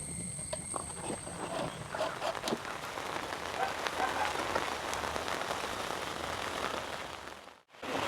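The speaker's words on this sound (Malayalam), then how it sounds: "മഴ നല്ലപോലെ കടുത്തു." Heavy monsoon rain pours down steadily outdoors while a bamboo raft is being lashed together, a dense, loud hiss of drops hitting surfaces with scattered sharper patters, continuous until a brief cut near the end.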